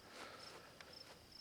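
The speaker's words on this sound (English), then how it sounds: "Crickets going." Crickets chirping outdoors on a crisp fall day near a tiny home, a faint steady high trill running through the short stretch with brief soft knocks over it.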